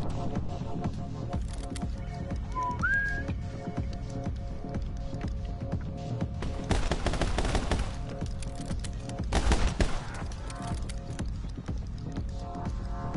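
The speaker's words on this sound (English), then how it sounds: "How can you not hear gunshots?" Video game gunshots crack and rattle in repeated bursts amid busy background noise, with a short rising electronic tone early on and no talking.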